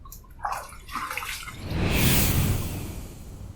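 Running water rinses a razor after a second shaving pass, a steady faucet splash that swells into a louder broadband rush midway, close by with no talking.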